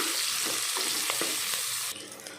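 Green chillies and curry leaves sautéing in hot oil, a dense close sizzle with several quick stirring scrapes, the frying dropping sharply quieter near the end, no voices.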